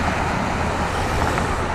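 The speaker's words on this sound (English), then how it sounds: "8 o'clock, so traffic is sort of light." Steady broadband roar of light road traffic on a wide city street at night, heard from a bicycle, with passing cars blending into a continuous close wash of tyre and engine noise.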